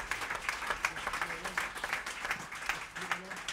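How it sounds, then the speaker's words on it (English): Steady applause from a live jazz audience fills the space, a dense patter of many hands clapping at moderate volume throughout. "Can we give them a huge round of applause?"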